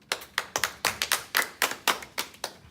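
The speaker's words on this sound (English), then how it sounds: "Clap it up." Students in a math classroom clap together in a quick rhythmic pattern, a dozen or so sharp, close claps in a brief burst.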